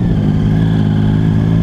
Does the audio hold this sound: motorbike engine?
yes